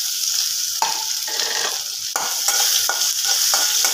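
Ginger paste frying in a pan, stirred with a utensil, giving a close, bright sizzle broken by several sharp scraping strokes in an uneven rhythm and no talking.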